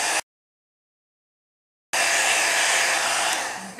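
A heat tool blows a loud, steady whoosh of hot air to dry ink over embossing; after a short burst it stops for a moment of silence, then starts again and runs close by.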